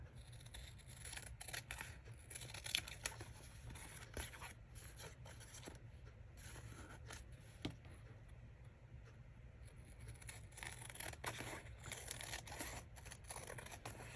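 Scissors snip through paper up close in a quiet crafting setting, a run of short, faint, irregular cuts with light rustling and no voices.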